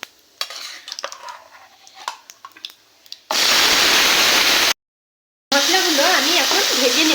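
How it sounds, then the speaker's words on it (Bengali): Ground spice paste with black cumin hits hot mustard oil, bursting into a loud, steady sizzle that fills the pan after some quieter stirring clatter, continuing strongly with a short gap. "মশলাগুলো আমি এখন ভেজে নেব।"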